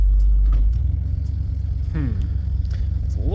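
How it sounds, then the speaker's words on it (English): A 50-year-old Chinook camper idles in neutral with a deep, steady engine rumble, a brief clunk at the start and faint squeaky whines layered over it. "now it has a weird sound when it's in neutral or park"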